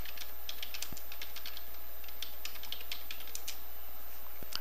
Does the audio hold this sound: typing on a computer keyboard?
yes